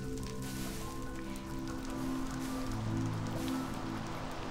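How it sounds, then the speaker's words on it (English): Steady rain falling in the video game Minecraft, a continuous even hiss of patter with no breaks, moderately loud and heard on its own without talk. "good thing the rain's here, but I think I'm gonna have to stop it."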